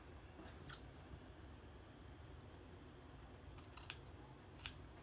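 Large tailoring scissors cut through fabric for a jumpsuit pattern, giving a few quiet, crisp snips spaced irregularly over a steady low background hiss.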